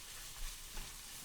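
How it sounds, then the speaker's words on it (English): Chicken floss frying in a pan gives off a faint, steady sizzling hiss with a couple of soft bumps, with no talking. "I don't know if you can pick up that sizzling noise, which means there's still a lot of moisture in it."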